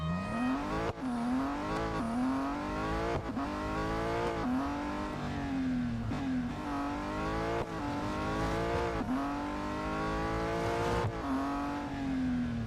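A racing car engine in a Real Racing 3 autocross event at Circuit de Catalunya: a loud, continuous video-game engine whine that climbs through the revs, drops sharply at each gear change and climbs again, repeating many times.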